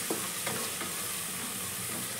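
Kasuri methi and softened greens frying in a pan, heard as a close, steady sizzle and hiss with light stirring, brief and continuous.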